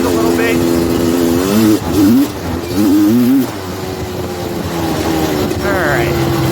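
A Suzuki LT250R two-stroke ATV engine idles and revs up close in cold weather, its buzzing note rising and falling in short bursts while someone talks over it.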